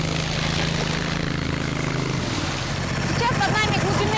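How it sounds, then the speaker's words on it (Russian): A swamp boat's engine and propeller run at full power while crossing a shallow, reedy marsh channel, producing a loud, steady droning roar with a shifting pitch, heard under spoken narration. "Двигатель работает на полную мощность. А винт крутится с такой силой"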